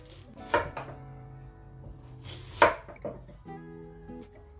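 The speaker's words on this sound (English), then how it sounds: "I'll start cutting my carrot." A knife chops carrots into strips on a cutting board while vegetables are prepped for steamed fish and okra in coconut milk; a few sharp, separated chops stand out over a low kitchen hum.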